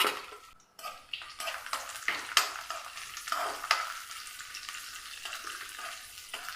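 Nendran banana pieces are sautéed in ghee, the gentle sizzle broken by repeated spatula scrapes and stirring strokes, with a few clinks of pan and utensils nearby.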